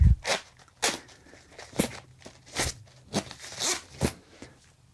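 A zipper on a travel sling bag or zip passport wallet, pulled in several short, rasping strokes at close range with brief pauses between them, no talking.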